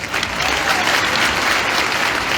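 A crowd applauds steadily at the Rehas Mela 2022 public stage event, dense and loud clapping sustained throughout with no break.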